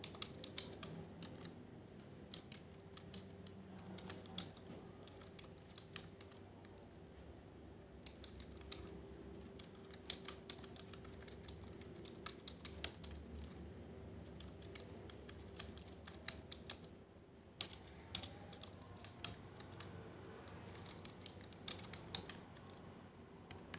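Rapid, steady key clicks from a computer keyboard as a MATLAB plotting command is typed, with no talk, over a constant low room hum.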